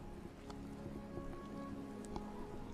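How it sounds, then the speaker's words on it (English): Steady rain pattering on surfaces in the video game The Elder Scrolls IV: Oblivion (Shivering Isles), a continuous soft patter with scattered drop ticks and no voices. "Maybe even the rain will be gone."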